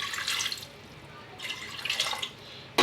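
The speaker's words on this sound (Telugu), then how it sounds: "కుక్కర్లో కాస్త నీళ్ళు వేసుకోవాలండి" Water splashes into a pressure cooker for a pumpkin, eggplant and sweet potato curry, poured in two close bursts of hissing, trickling flow separated by a pause, ending with a sharp knock.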